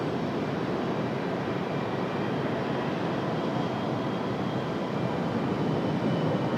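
A Frontier airliner arriving at Raleigh-Durham airport, heard as a distant, steady broadband jet rumble and roar that stays even throughout, with no talk.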